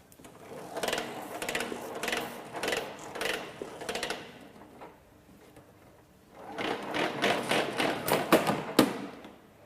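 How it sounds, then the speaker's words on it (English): An air hose reel without controlled return retracts in two fast bursts of rattling, clattering mechanical noise, with a quieter gap between them and a loud, close final clunk. "I'd like to show you a hose reel without controlled return"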